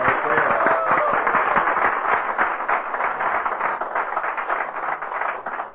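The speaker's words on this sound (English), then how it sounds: "give John a big round of applause" A crowd of listeners applauds at an Alcoholics Anonymous history talk in East Dorset, Vermont, with loud, dense, steady clapping and some cheering that fills the whole stretch without let-up.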